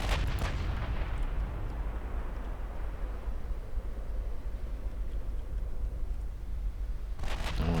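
Naval guns boom in the Ultimate Admiral Dreadnoughts game during a battle against battlecruisers, with a heavy blast at the start and another near the end over a continuous loud rumbling roar.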